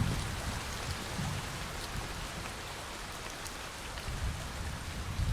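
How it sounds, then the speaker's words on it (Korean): Steady rain pours down through a forest near a thousand-year-old temple in Gangjin, a dense, even hiss of drops striking leaves and ground with low rumbling swells, and no voices. "비가 옵니다."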